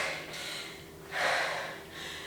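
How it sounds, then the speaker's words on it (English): Heavy, effortful breathing from a person mid-way through a bodyweight HIIT cardio workout; two or three close, sharp gasping breaths with a brief pause between them, with no talk. "can you hear me breathing?"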